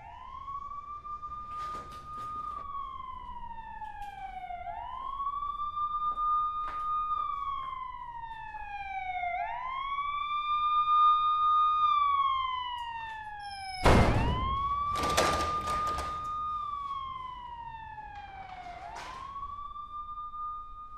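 Police car sirens wail in repeated rising and falling sweeps, drawing closer and growing louder, with a sharp impact-like burst partway through and no talking.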